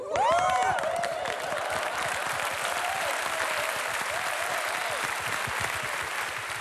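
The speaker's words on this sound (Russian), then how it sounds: "Эй, что хлопаете, а?" Applause from the audience at a KVN comedy show rolls on steadily, with a voice speaking briefly over the start and a few short vocal sounds later.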